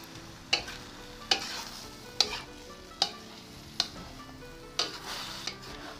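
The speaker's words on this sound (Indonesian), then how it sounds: "Diaduk rata." A spatula scrapes through napa cabbage stir-fry seasoned with ground pepper in a pan, giving six evenly spaced sharp strokes over a soft, steady sizzle, close and clear with no voices.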